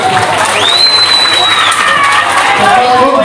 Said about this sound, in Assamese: ৰাইজ আপোনালোকে হাত চাপৰিটা দিয়ক